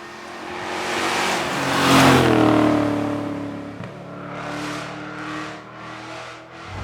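A classic Triumph Stag Montreal-era V8-style engine revs up and settles, swelling loudly then easing into a throaty drone with a second rise near the end, close and alone without talk.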